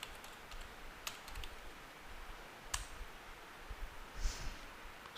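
Keys clatter on a computer keyboard in soft, irregular bursts of clicks, quiet and close, with a few louder taps standing out and no voice over them.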